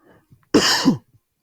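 A single loud, harsh cough bursts out close by after a moment of quiet, with faint rustling around it.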